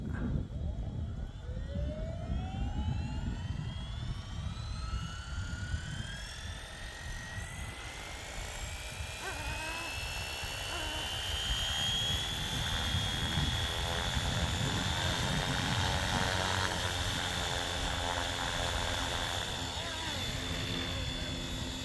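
A Flywing FW450 RC helicopter spools up with a rising whine that climbs steadily in pitch, then holds a loud buzzing rotor drone as it lifts off outdoors, close to the listener.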